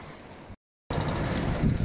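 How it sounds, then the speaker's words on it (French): Wind and heavy sea swell around a sailboat at sea, a continuous rough wash broken by a brief gap of silence. "Un peu de vent, beaucoup de houle,"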